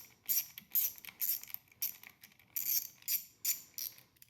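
Metallic clicks and rattles as a GMR XL heat shield block is pulled off its mounting ball and its 7 mm nuts are worked with a Phillips screwdriver, in close, separate bursts.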